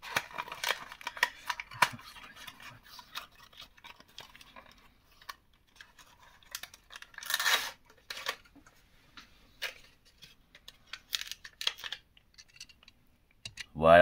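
Packaging of a Norev 3-inch scale model car being opened up close, with scattered crinkles, clicks and tearing bursts in an irregular rhythm and a sharp, loud rustle at the very end.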